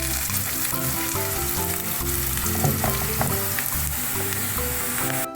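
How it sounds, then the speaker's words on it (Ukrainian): Onion and carrot fry in a pan for pea soup while being stirred, giving a steady close sizzle with scraping and clinking of the spoon against the pan throughout. "піджарилась у нас цибуля і морква. І тепер ми їх ось так перемішуємо вже разом жаримо"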